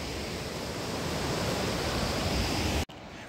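River water rushes beneath a bridge in the Himachal Pradesh hills near Kullu, a dense, steady roar of flowing water that cuts off abruptly near the end.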